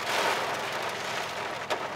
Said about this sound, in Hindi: बाहर बारिश हो रही है